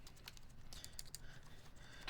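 Soft, rapid clicks of keycaps being typed on a computer keyboard, including the Shift and Enter keys, come in an irregular run of light taps, faint and close with no voices.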